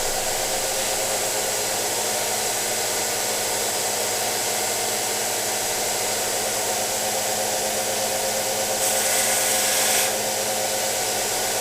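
A power sander works on a plastic Star Wars Nebulon-B model part as one continuous, even whir, close and steady throughout, rising slightly in pitch for a moment near the end.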